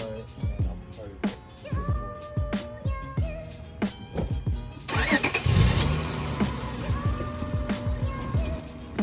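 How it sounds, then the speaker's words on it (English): A Honda Accord CG6 engine cranks with a series of clicks, then catches and settles into a steady idle, close and moderately loud, with brief speech nearby. "So I'm gonna back up the car, and I'll park it."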